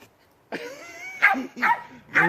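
A dog barks in a few sharp, close bursts with yipping, whining edges during a backyard fireworks display, each bark separated by a short pause.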